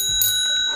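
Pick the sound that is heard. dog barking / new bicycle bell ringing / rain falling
new bicycle bell ringing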